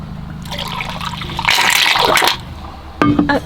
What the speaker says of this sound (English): Now we gotta be sure to flush.